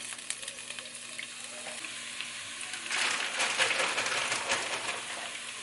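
Crumbled tofu scramble frying in a pan gives a soft, steady sizzle that swells louder and crackles more busily halfway through, with no talking.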